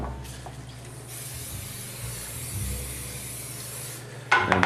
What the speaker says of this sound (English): So what you want to do is you just want to lightly spray around the pan.